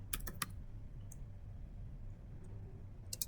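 Keystrokes on a computer keyboard while a Cisco switch command is entered, a quick burst of clicks at the start, a few isolated taps, and another short burst near the end over a low steady hum.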